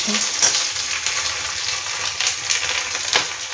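Onions fry in a pan with a steady, fairly loud hiss and crackle, broken by light scraping from stirring, with no voices.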